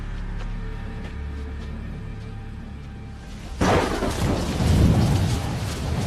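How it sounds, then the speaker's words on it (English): Thunder crashes loudly in a stormy scene from the animated show Monsuno, with steady rain hissing underneath and a sudden heavy rumbling burst midway that lingers to the end. "this storm isn't moving or weakening at all"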